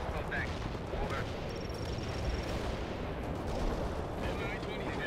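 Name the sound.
artillery strikes in the video game World in Conflict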